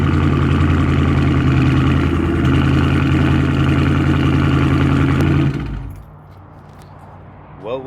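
A Dodge Hemi V8 idles loudly with a deep, steady rumble, then cuts off abruptly, leaving quiet near the end.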